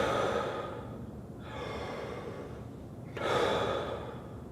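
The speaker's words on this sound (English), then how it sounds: "feel what it feels like when I blow out in a relaxed way" Relaxed breaths blown out through the mouth, as a trombone player demonstrates breathing: two soft, airy exhalations, close and fairly quiet, with a brief pause between them and no talking.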